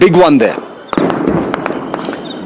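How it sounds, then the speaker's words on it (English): Ground gunfire in Srinagar: after a short burst of speech, a single sharp crack is followed by several scattered shots that echo over a noisy background. "You can hear the gunfire. This is all ground fire."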